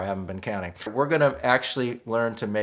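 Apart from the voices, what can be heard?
No everyday noises stand out.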